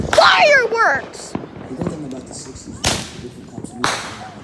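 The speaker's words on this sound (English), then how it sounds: "There's fireworks." Fireworks go off outdoors on a sunny day, with sharp cracking bursts standing out against excited voices talking nearby.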